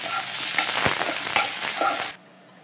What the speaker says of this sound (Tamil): நம்ம நறுக்கி வச்சிருக்க வெங்காயத்தை ஆட் பண்ணிக்க வேண்டியது. போட்டுட்டு நல்லா கொஞ்சம் கிளறி விட்டுக்கோங்க.